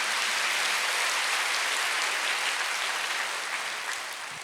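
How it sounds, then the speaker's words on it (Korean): A church congregation applauding during a Sunday worship sermon, loud, sustained, dense clapping that tapers slightly toward the end. "박수하세요."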